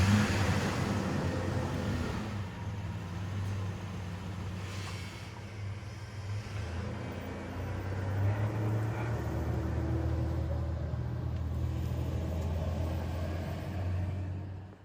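A small truck's engine runs steadily for about fifteen seconds, a close, continuous low rumble with slight swells and no voices.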